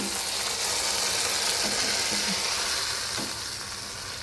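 Raisins and cashews frying and being stirred in a hot pan for a kheer-style dessert, a loud close sizzle with a few scraping stirs of the spoon, no talk.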